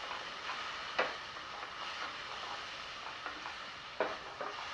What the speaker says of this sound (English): we're just going to cook the onions in the oil about 2 minutes